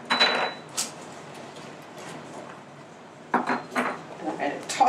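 Cumin, sweet paprika and salt being added to a mixing bowl, heard as light clinks and taps of spoons and containers against the bowl, coming in scattered bursts close by with some speech-like sounds mixed in.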